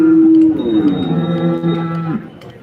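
Cattle moo loudly and close by at the Modnimb cow market in the morning, a long sustained low call that bends and fades over about two seconds amid a busy crowd of livestock noise.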